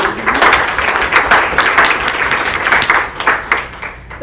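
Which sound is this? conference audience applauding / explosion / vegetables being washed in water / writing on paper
conference audience applauding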